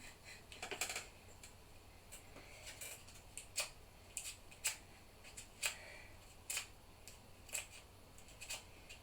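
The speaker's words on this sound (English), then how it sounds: "using the scissors just to curl petals." Scissors drawn along paper flower petals to curl them, a run of short crisp snips and scrapes recurring every half second or so, fairly quiet and close, with no voices.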